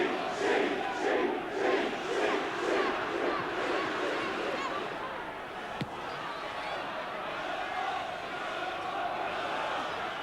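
Arsenal supporters roar and chant rhythmically after a goal at a 1986/87 FA Cup third-round football match away at Reading, a loud, dense crowd swell that settles into sustained stadium noise.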